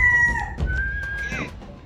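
A fighting rooster crows at a cockfight, with a long tonal call standing out over crowd murmur and handling noise.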